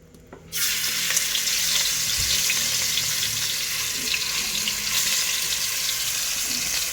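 Chicken hits hot oil in a pan on a stove, and after a brief quiet start a loud, steady sizzle and crackle takes over and holds to the end, with no talking.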